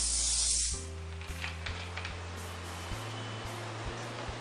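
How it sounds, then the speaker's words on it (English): Cola poured over a masala mix gives a loud, bright fizzing hiss for under a second, then settles into a quieter crackle of bubbles with a low hum beneath. "just pour some cola over it"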